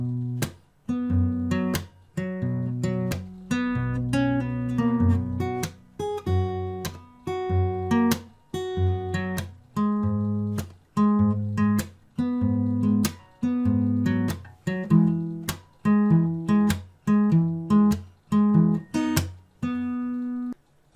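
An acoustic guitar plays a fingerstyle arrangement at a slow pace, picked bass notes and chords broken by percussive slaps, steady and close with no voices.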